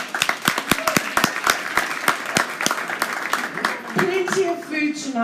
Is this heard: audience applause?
yes